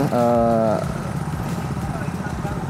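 An FTL 820 mini plough tractor engine runs steadily with a close, even chugging drone, while a person speaks over it for most of the stretch.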